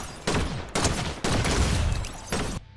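Gunfire in Fortnite: several loud, close bursts of rapid automatic shots, separated by short pauses, ending abruptly.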